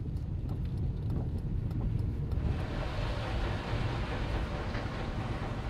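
A driving-school car rolls through the empty former town centre, with a steady low engine and road rumble that brightens into broader tyre noise partway through, close and continuous with no voices.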